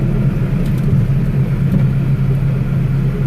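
A Kubota M6 tractor's diesel engine runs steadily at close range, a continuous low rumble with no pauses and no voices over it.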